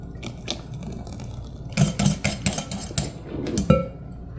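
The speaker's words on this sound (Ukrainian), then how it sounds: "Далі вливаємо розтоплене масло" Melted butter is poured into a whipped egg mixture in a kitchen bowl, a soft liquid pour with clinks and knocks of a utensil against the dish, close and moderately loud, with no talk.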